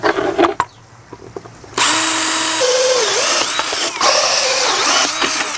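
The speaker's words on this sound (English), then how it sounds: "For this part, I'm using a hole saw, but you can cut it with a Dremel or really any other thing you can cut a hole with." A hole saw on a power drill bores through a plastic bucket lid, giving two loud sustained whining cuts with pitch dips as the teeth bite, separated by a brief pause and preceded by some handling clatter.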